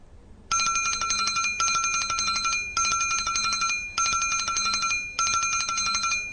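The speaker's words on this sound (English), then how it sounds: "The boy can hear the ringing bell using his ears." A loud, close bell rings in five sharp bursts of roughly a second each, separated by brief pauses, with no voices.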